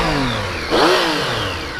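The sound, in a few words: Triumph Street Triple motorcycle engine revving to full RPM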